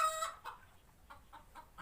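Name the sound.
chickens clucking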